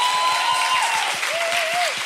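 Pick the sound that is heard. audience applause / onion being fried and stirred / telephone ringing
audience applause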